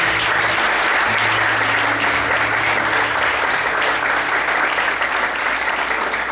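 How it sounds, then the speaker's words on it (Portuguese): A church congregation applauding during an evening service, loud, dense and sustained clapping from a large crowd that continues evenly throughout, with faint voices mixed in underneath. "Você pode desocupar a sua mão, aplaudir o Senhor nessa noite."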